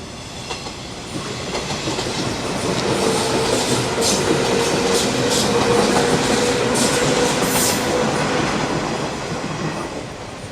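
A train rolls past on the tracks close by, a loud steady roar with rattling wheels that swells and slowly fades.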